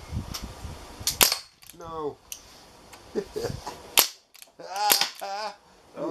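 Air guns fire at a shooting range, including CO2-powered ones, giving sharp, loud pops in uneven bursts of several shots, some close together, with excited voices talking and cheering between them.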